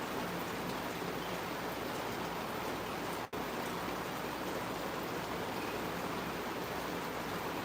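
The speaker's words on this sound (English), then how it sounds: "But it's raining, guys. Finally we're getting some rain." Rain falling steadily in Kingston, a dense even hiss of drops on surfaces with one brief dropout partway, no voices.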